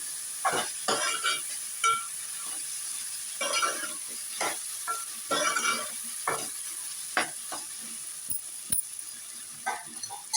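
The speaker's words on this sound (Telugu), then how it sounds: "అల్లం మంచి వాసన రావాలి వేగాలి" Chopped ginger frying in a pan for a dried fish curry, with soft sizzling and a series of stirring scrapes and clinks through the middle distance, no voices.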